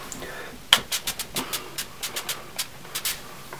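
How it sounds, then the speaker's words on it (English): Quick spritzes from a spray bottle, about a dozen short hissing pumps in an uneven rhythm, close by with no talking. "I'm gonna go in with some of the setting spray."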